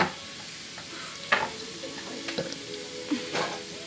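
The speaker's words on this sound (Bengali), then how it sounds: "আমি ভেজে নিই পরোটাগুলো টকটক করে" Parathas frying in a pan give a soft, low sizzle broken by a few sharp scrapes and clinks of a spatula against the pan, quiet and close.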